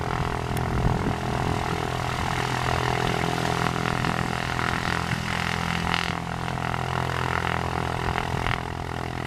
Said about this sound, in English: Now we're going to watch the Cessna.